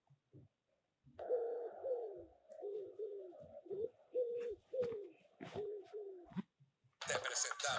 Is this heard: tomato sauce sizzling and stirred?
no